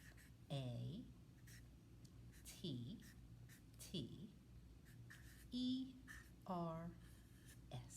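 A pen scratches across paper in short, quiet strokes as the word 'matters' is written during a tissue paper painting craft, while a voice talks over the writing throughout.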